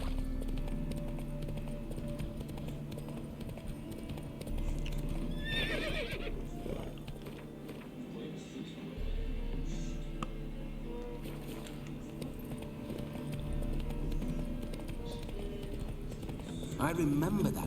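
Hooves of Roach, Geralt's horse in the video game The Witcher 3, clip-clopping steadily at close range with a neigh, mixed with game ambience and voices talking.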